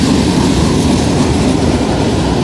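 A train arriving at Den Haag Centraal station, heard as a loud, steady rumble of rolling wheels and rail noise, close by and continuous without a pause.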